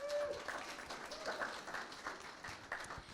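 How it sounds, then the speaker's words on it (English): An audience at a women's social media event applauds, a continuous patter of many hands clapping, moderately distant and fairly faint, with a voice briefly audible over it. "give her a very round, warm of applause"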